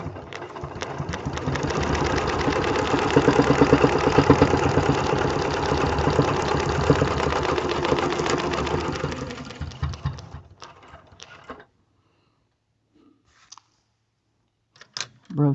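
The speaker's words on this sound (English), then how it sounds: "line up my circle, and stitch all the way around, coming back to my 1-inch center circle" A sewing machine stitches continuously around a circle on a log cabin quilt block, a steady, rapid, close mechanical whirr for about ten seconds before stopping, followed by a few faint handling clicks.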